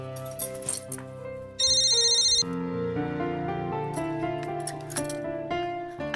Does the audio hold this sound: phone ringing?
yes